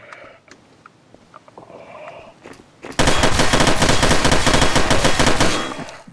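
Rapid automatic gunfire from a video game bursts in suddenly and loud after a few quiet seconds, a dense rattling stream of shots that runs steadily before tapering off near the end.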